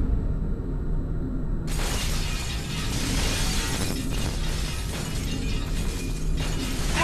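Glass panels shatter in Star Wars: The Force Unleashed as an object held by Force Grip smashes through them. A sudden loud crash breaks a quiet hum, and crunching debris keeps ringing and clattering, with fresh surges of breaking glass.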